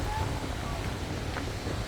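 Big ocean waves break along Valugan Boulder Beach in North Batan, Batanes, giving a steady, loud low roar of surf mixed with wind buffeting the microphone.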